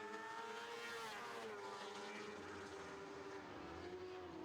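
Lightning sprint race cars roar around a short track in a feature race, a steady loud engine drone with rising and falling pitch as cars chase closely, continuous throughout with no talk.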